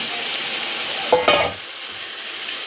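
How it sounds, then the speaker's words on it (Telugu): Chicken pieces sizzling in a pan of browned fried onions, a steady hiss broken by a brief clatter of the spoon stirring, close and without talk. "సో ఇప్పుడు మనం చికెన్ ఇందులో వేసేసుకుందాం."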